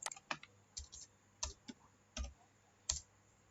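Computer keyboard keys tapped in short, sharp clicks, roughly eight scattered presses over a few seconds, close and fairly quiet in an otherwise still room.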